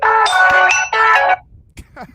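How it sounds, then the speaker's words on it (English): A phone ringtone plays loudly as a bright, tonal melody in two bursts, then cuts off abruptly, followed by a few faint vocal sounds. "That's quite a ringtone you got there"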